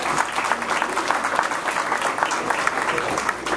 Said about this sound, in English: give them a round of applause for everything they did to make sure y'all got here